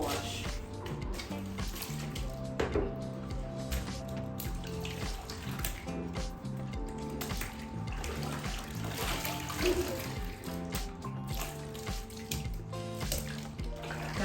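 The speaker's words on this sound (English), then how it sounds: "You guys can see I'm washing it in one motion direction." A synthetic wig is washed by hand in water with TRESemmé co-wash. Sloshing and dripping water continues throughout, mixed with steady background music and no clear speech.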